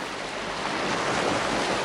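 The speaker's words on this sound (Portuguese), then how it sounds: "O dia da juíza Valesca Alencar Alves Rolim começa ainda sob os primeiros raios de sol, ao som das ondas do mar." Sea waves wash steadily onto the beach at Iracema in the early morning, a loud, continuous roar of surf with some wind noise on the microphone.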